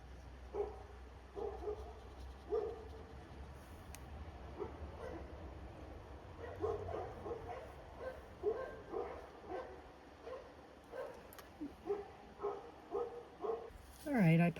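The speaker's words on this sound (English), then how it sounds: "I paused because the neighbor's dogs were barking quite a bit" A neighbor's dogs bark repeatedly at a distance, in faint irregular volleys spread throughout against a quiet indoor background.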